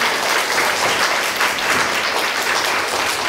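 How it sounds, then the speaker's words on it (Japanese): The audience at a dementia lecture and family gathering in Shinagawa gives a warm round of applause to the lecturers. Many hands clap continuously, fairly loud and even, with no talking over it. "あとお三方に盛大な拍手をお願いいたします"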